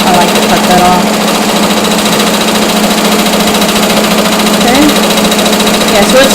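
An embroidery sewing machine stitching a digitized logo of about 2.5 inches, giving a loud, continuous, rapid mechanical whirring and clatter that stays steady from start to finish.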